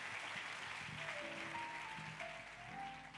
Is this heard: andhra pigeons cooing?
no